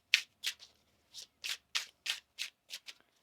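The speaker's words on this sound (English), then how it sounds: "One more shuffle here, please" Tarot cards are shuffled in nine or so short, crisp riffling bursts spaced unevenly, close and fairly quiet, with silence between each flutter and no talking.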